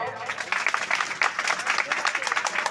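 Audience applause at a village nam sankirtan devotional gathering, fairly faint scattered clapping with a loose rhythmic patter, heard under a speaking voice over a dull background hum.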